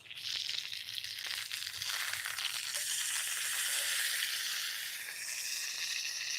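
Burger patty sizzling over an open fire, a steady bright crackling hiss with faint pops and rattles throughout, quiet and continuous with no voices.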